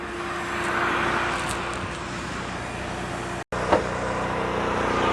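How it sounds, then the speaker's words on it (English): Continuous whooshing roar of a vacuum cleaner working inside a car, cutting out for a split second before resuming at the same level, with no voices. "So I'm gonna finish vacuuming this car"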